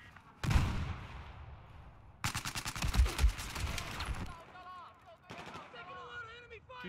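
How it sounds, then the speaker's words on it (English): Bursts of automatic gunfire from weapons in a competitive team video game match: a short rapid volley, a pause, then a longer sustained string of loud, close shots. Quieter game sounds follow. "Shooting first with the highest damage weapon."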